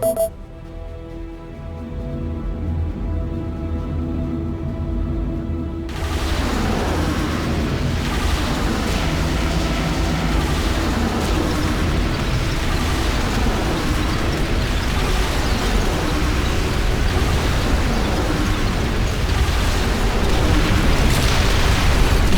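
A long, dense rumbling blast roars through the real-time strategy game Ashes of the Singularity: Escalation as an enemy nexus is destroyed, a loud sustained roar that swells after a sudden onset and keeps thundering without pause.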